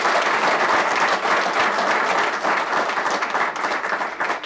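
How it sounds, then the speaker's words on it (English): A crowd of parents and staff at a school district governing board meeting applauds state champion students, with loud sustained clapping that stays full and even throughout. "Please join me in one more round of applause."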